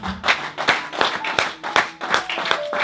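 A church congregation claps together in a steady rhythm of sharp, close claps, about one every third of a second, with faint voices beneath.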